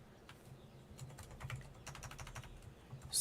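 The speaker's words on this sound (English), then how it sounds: "I hate typing with the pop screen." Computer keyboard typing at a home streaming desk, a quick run of soft clicky keystrokes in irregular bursts over a low steady hum, close and fairly quiet, ending in a louder bump.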